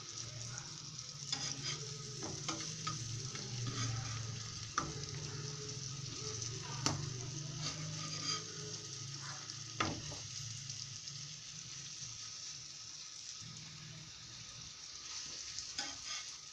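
An egg and tomato omelette frying in a pan with a soft continuous sizzle, broken by scraping and tapping as it is turned over, fairly quiet and without speech.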